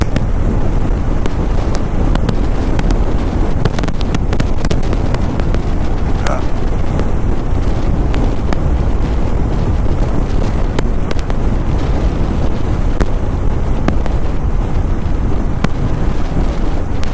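Loud, continuous wind buffeting hammers the microphone of a rider on an unfaired motorcycle in a heavy low roar, with gusts swelling and easing and a voice faintly beneath.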